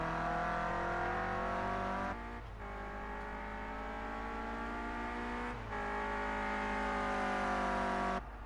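A Clio Cup race car on its out lap at the COTA National circuit drones at high revs in a steady engine tone, with two brief dips where the driver shifts or lifts, heard at a distance.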